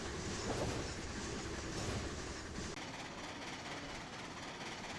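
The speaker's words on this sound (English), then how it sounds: "taking the first train from the transfer yards to Danville" A freight train rumbles steadily past with a continuous heavy roll and faint clatter of wheels on track, fairly distant and unbroken throughout, in Illinois.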